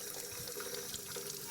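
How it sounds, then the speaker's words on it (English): Cold tap water runs into a measuring cup in a kitchen sink, a soft, steady, close hiss of flowing water with no talk. "I'm just going to fill up a measuring cup with cold water"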